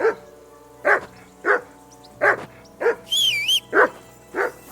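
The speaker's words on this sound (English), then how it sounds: "Whistle at that mutt of yours to stop barking!" A dog in the medieval video game Kingdom Come: Deliverance II barks repeatedly in short, evenly spaced woofs, close and clear, with a brief whistle sounding between the barks.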